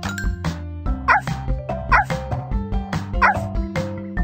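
Cartoon puppy barks from Dora the Explorer, three or four short yips popping out at a steady rhythm over bright, busy background music and chimes, close and clear.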